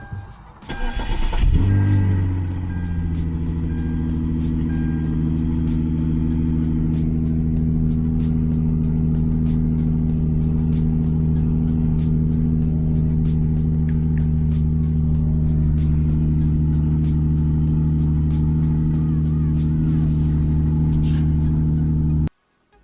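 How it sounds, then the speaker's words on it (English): A Hyundai Genesis Coupe with Borla exhaust and test pipes cranks and fires up, then settles into a loud, steady, deep idle rumble heard from inside with the door open, cutting off abruptly at the end. "this is gonna be an interior shot of just how the vehicle sounds with, again, the test pipes"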